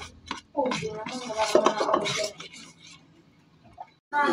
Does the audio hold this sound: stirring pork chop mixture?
yes